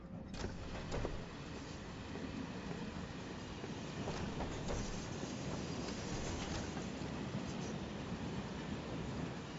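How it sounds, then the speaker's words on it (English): A train in Final Fantasy VII Remake rolls toward the slums, its steady rumbling ride and faint rail clatter filling the whole stretch at an even, close, fairly loud level with no talking. "We're on the train."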